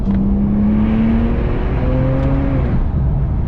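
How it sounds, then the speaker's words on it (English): A car accelerates hard on a test drive on open road in Mexico. The engine note climbs steadily in pitch, loud and close, over constant road and wind roar, with no talking. "We'll slow down a little bit and show you guys the acceleration."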